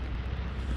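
A low rumbling drone from an airplane passing overhead in the World War II shooter Hell Let Loose, a brief steady roar with no talk.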